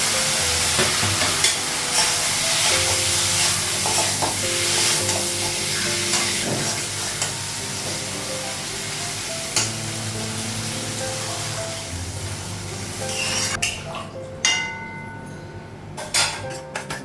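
Steady, loud sizzling of cumin powder frying in a pan, with occasional stirring scrapes and crackles throughout; no one speaks.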